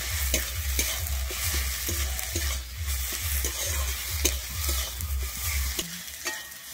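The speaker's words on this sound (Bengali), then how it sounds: "আমি ভালোভাবে এবার একটু কষিয়ে নিচ্ছি" Chili-powder spice masala sautés in a pan for cauliflower and peas curry, a steady close sizzle with rhythmic scraping stirs repeating every half second or so, easing off near the end.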